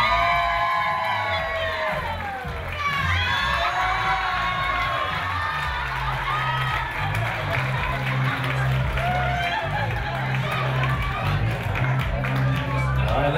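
Wedding guests at a golf and country club clap and cheer in a steady, loud wave of applause with whoops and voices through the crowd, sustained over the whole stretch.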